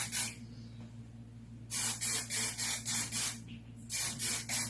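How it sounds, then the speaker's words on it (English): Herbal Essences Body Envy hairspray from an orange and white bottle, released in a brief spray, a pause, then a string of quick short bursts in a rhythmic series, close and quiet. "I'm just going to lightly spray."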